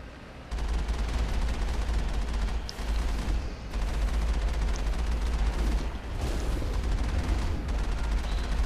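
Gunfire striking a vehicle in Mass Effect, a dense, sustained barrage of rattling impacts and rumbling over a constant low engine drone, loud and continuous with brief dips.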